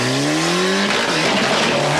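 Rally car with a faulty exhaust at the 1996 Tour of Flanders rally in Belgium, its engine roaring loud and close with a falling then steady pitch, rough and uneven, no voices.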